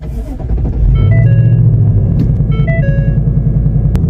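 A rebuilt, previously wrecked 2025 Mustang GT pulls away on its first drive, its engine a loud, close, continuous low rumble with a few faint tonal chimes above it.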